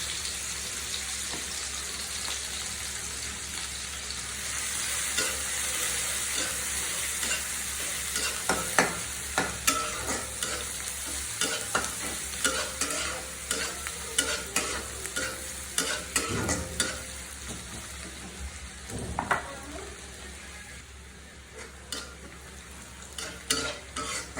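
Onions frying in oil for Bengali hilsa fish dopiaza, a steady close sizzle with scattered stirring scrapes and clinks through the middle and end, no talk.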